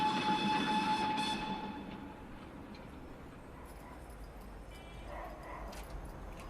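The Tren de las Nubes, a train running at 4,300 metres altitude, rumbles along steadily with rolling wheel noise, opening with a high whistle-like tone before settling into a continuous mid-level rumble.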